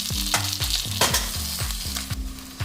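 Spice masala of turmeric, coriander powder and red chilli sizzles in a pan as a spoon stirs and scrapes it in quick, regular strokes, close and loud with no voices.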